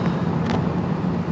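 A car with a six-speed manual transmission is being driven, heard as a brief, steady engine and road rumble from inside the car, with no talking.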